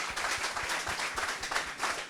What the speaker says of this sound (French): J'aimerais qu'on fasse beaucoup d'acclamations pour le doyen Sékou Le Gros.